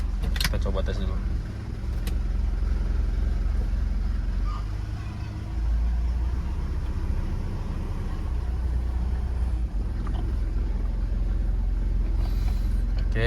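Mitsubishi Pajero driven on the road at about 40 km/h, a steady low engine and road rumble running throughout with a few faint rattles and someone talking over it.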